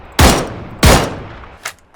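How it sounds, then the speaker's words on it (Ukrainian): Two heavy, booming gunshots about half a second apart in the video game PUBG, followed by a fainter third shot, each ringing out with a short echo. "Десь на півночі стріляються."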